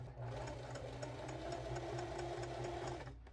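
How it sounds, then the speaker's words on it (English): A sewing machine stitches appliqué fabric in a steady, continuous mechanical whir with a rapid needle rhythm, close and alone throughout, stopping abruptly at the end. "put the presser foot back down before continuing sewing"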